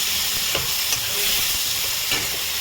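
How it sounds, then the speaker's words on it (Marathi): Vegetables including carrot and potato sautéing in a pan for veg biryani, a loud, continuous close sizzle with occasional stirring scrapes. "व्हेजिटेबल आपण याच्यामध्ये ॲड करूया. प्रॉपर परतून घेऊ."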